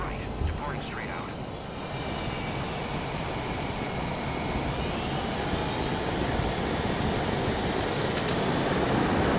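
A Boeing airliner in a flight simulator game rolls for takeoff from runway 28 right at San Francisco, a steady broad engine roar slowly building in loudness, with a voice speaking early on.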